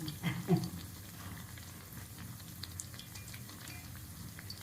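Homemade pudina masala vada made from a ready mix fry in hot oil, a quiet steady bubbling sizzle with a few louder crackles near the start.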